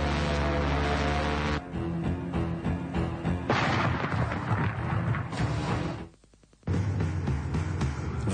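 Gunfire aimed at an approaching statue in a French detective audio drama, heard as loud, dense bursts of shots rolling over a sustained tonal backdrop, with a brief drop-out near the end before the noise resumes.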